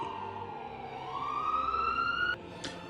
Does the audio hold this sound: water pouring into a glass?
no